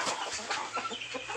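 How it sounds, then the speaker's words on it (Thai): Brahma chickens cluck in a busy, short burst of overlapping calls, moderately close and fairly quiet. "อันนี้ไก่บราม่านะครับผม"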